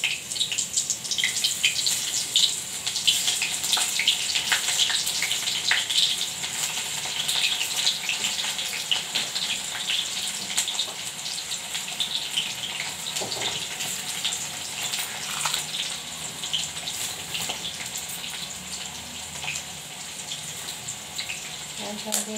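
Steady, crackling sizzle of onions added to hot oil after a cumin tempering, a continuous bright hiss that holds evenly throughout, close by and fairly loud.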